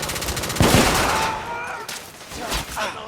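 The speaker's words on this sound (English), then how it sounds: "Gunfire was coming from that tunnel." Rapid gunfire in the video game The Order: 1886 bursts out loud and close, with sustained automatic fire and scattered shots mixed with shouting voices.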